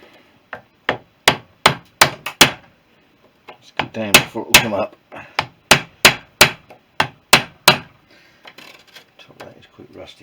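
A hammer strikes metal in a series of sharp, ringing blows, close and loud, with a short spoken phrase between bursts of hits, while fitting a tight part on a Suzuki GT380 motorcycle's forks.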